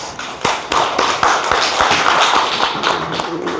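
A congregation claps during a Korean Sunday worship service, sparse and uneven at first, then thickening into scattered hand claps that stay fairly close and moderately loud in a reverberant church hall.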